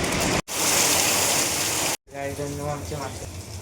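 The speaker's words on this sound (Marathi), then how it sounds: "आता एन्जॉय झाला एकदम पावसाचं वातावरण" Heavy morning monsoon rain in the Konkan pours down as a dense, loud, continuous hiss with brief breaks, and a voice may be faintly audible toward the end.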